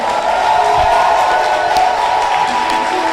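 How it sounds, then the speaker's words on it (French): A church congregation cheers in acclamation, a steady dense roar of crowd voices and whoops with some clapping, loud and continuous. "je vais t'accorder cette forte acclamation. Acclame le Saint-Esprit."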